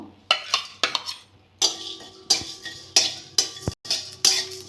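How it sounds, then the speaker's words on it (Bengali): Coriander, cumin and garam masala are tossed dry in a hot kadai, a spatula scraping the metal in about ten quick, separate strokes with brief quiet gaps between. "একটু ধনে জিরে আর একটু গরম মশলা ভেজে নেব কড়া বসিয়ে দিয়েছি কড়াটা গরম হয়ে গেছে"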